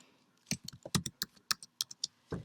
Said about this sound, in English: Right, so I typed the number of this class